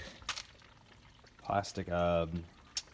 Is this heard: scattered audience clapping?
no